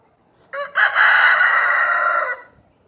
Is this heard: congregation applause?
no